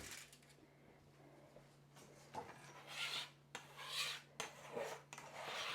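Scraping leftover flour off a wooden work surface while making poori, a few soft dry rasping strokes, close and fairly quiet, with no talk.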